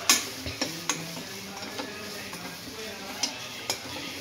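A spoon stirs roasted onions with a little added turmeric in a frying pan. The frying sizzle runs steadily underneath, and light scrapes and taps of metal on the pan come at an irregular pace, close by.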